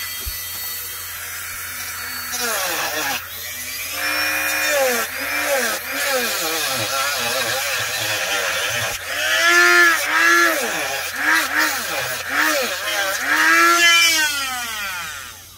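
A Dremel rotary tool cuts into a PC motherboard with a loud, continuous whine whose pitch swoops up and down as it bites and frees.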